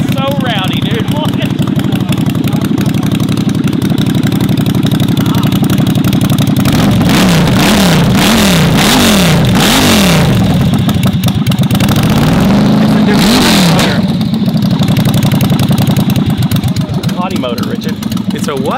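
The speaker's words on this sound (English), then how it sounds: "It's a what? It's a Ducati" A twin-cylinder Ducati motor fitted to a small go-kart with no brakes idles and revs in loud, repeated bursts close by, while people talk over it throughout.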